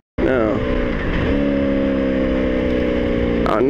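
A motorcycle engine with a dying fuel pump runs steadily and loudly close by for several seconds, its tone wavering slightly before a brief change near the end.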